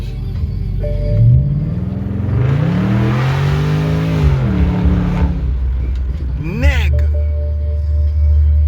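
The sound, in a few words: BMW 645ci E63 engine revving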